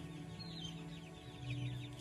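Chickens kept at a village home in Assam cluck softly and intermittently, faint over a constant low background hum.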